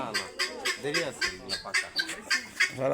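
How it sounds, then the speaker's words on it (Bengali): Chickens cluck at Batikamari bird park in Muksudpur, a quick run of short, close, repeated clucks and squawks in an uneven rhythm. "এগুলো মুরগি"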